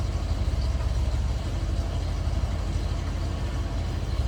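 The 472 V8 of a 1973 Cadillac Sedan DeVille four-door hardtop runs at a steady, deep idle, heard from behind the car as a low, even rumble with no one talking.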